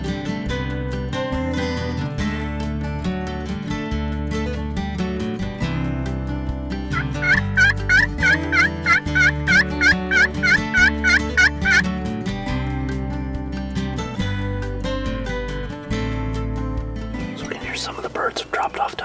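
Merriam's wild turkeys gobble in a rapid burst of repeated calls from down the mountain slope, heard mid-distance beneath steady background music.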